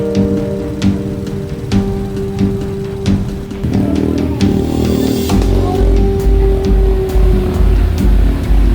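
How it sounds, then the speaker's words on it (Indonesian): Vehicles crawl through traffic on a road flooded by overflowing water, with rumbling engines and a steady rushing, spattering wash of water around them. Sharp clicks and a deeper engine drone come in midway, all loud and close. "Macet karena banjir."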